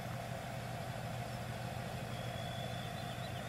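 Chevy one-ton dually pickup towing a heavy load downhill in Farming Simulator 17, its engine brake holding a steady, loud low rumble with a continuous drone throughout, no voices.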